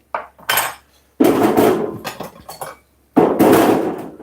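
Peeled onions cut on a board during batch cooking prep: a few sharp, irregular knife chops and clatters, close and loud, separated by short pauses, with no talk.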